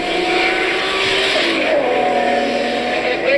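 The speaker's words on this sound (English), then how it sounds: "You can tell he's starting to brake earlier and earlier." A race car on a track roars loudly and continuously, engine pitch dropping and shifting as it brakes and downshifts, with a brief tire squeal, close and dominant throughout.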